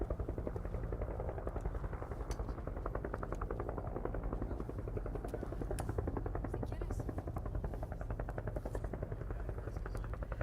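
A helicopter flies overhead near a fire update briefing, its rotor producing a steady, rapid chopping throb that stays loud and constant for the whole stretch.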